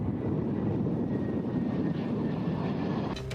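A steady, loud roar of an F-35B Lightning II fighter jet engine fills the scene continuously, broad and rumbling with no break.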